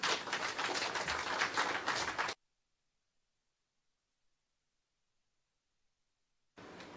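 Audience applause greets a minister at a launch event for the restored Holland Bamboo Scenic Avenue, a dense burst of clapping for about two seconds that cuts off abruptly, then resumes briefly near the end.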